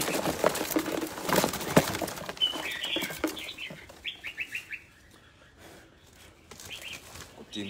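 Chirping bird calls played back through a speaker, with short repeated tweets and fluttering bursts appearing in clusters over a noisy, crowded start that fades to quieter background.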